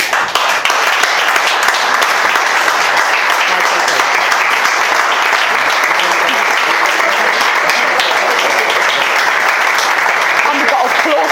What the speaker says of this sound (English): we've got applause in person